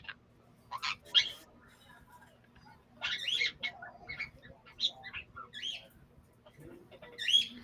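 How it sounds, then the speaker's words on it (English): Faint, scattered bird chirps and squeaky calls come and go in irregular bursts over a low hum, with nearby dogs stirring, quiet and intermittent. "The birds have woken up the dogs."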